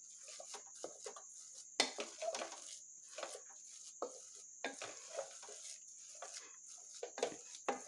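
Cooked yellow pumpkin pongal being mashed and broken up in a pot, with repeated soft squelching strokes and light scrapes of the spoon against the metal, close and steady over a faint constant hiss.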